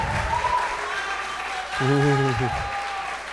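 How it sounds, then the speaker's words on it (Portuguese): Audience applause at a literary festival event, a broad steady wash of clapping with a voice speaking over it and a brief sung or called-out tone partway through. "Tem palmas, hein?"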